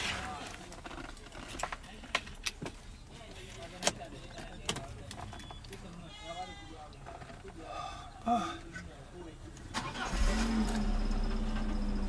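Clicks and knocks sound over faint background noise, then near the end a Peugeot 307 engine turns over and catches into a steady low idle.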